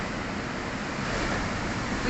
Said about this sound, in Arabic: وكيعجبني سبحان الله هذا الصوت ديال المواج ديالو